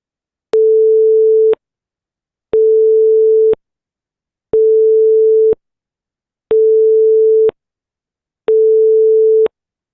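Five identical synthesized tones, sine and cosine signals with varying phase, sound in an even sequence, each a clean one-second steady pitch separated by one-second gaps of silence, loud and isolated.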